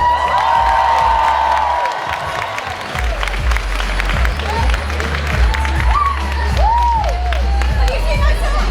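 A crowd at a Stranger Things convention panel on a Friday morning applauds and cheers for costumed fans, with shouts and whoops rising over steady clapping through the whole stretch.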